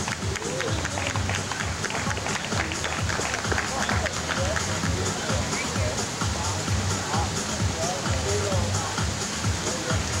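An audience at the Mr. Las Vegas Leather 2003-2004 contest applauds a contestant, with steady, loud clapping and crowd noise throughout and some voices mixed in.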